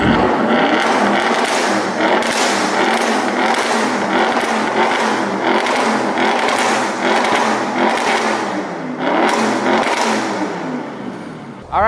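An Audi RS6 fitted with an IPE exhaust, set to dynamic mode, revs repeatedly in loud, close bursts, each blip rising and falling in a steady rhythm with a final rev at the end, no talking over it.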